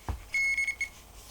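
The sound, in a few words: vehicle alarm sounding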